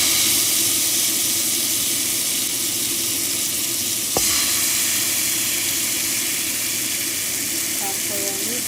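Marinated chicken frying in a pan, a continuous close sizzle and crackle with a single sharp clink of a utensil midway.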